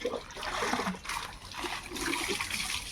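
Water pours and trickles steadily over a dog being bathed with shampoo in a village yard, splashing and dribbling continuously at close range with brief dips between pours.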